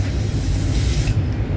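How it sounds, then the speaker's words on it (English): A short, steady hiss of Lace Wonder Bond lace melt spray from an aerosol can, close and fairly loud, cutting off abruptly near the end. "So I'm just gonna go ahead and spray it and tap it."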